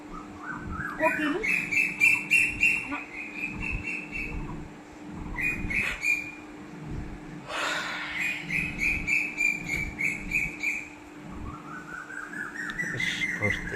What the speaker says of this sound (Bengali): অনেকক্ষণ থেকেই শুনতে পাচ্ছি পাখিটা আর কিচিরমিচির